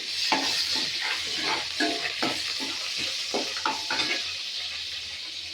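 Crushed garlic cloves frying in a hot pan, a steady close sizzle with repeated scraping stirs and light clinks of utensil against the pan, no voices.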